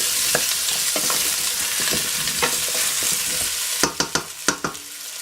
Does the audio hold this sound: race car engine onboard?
no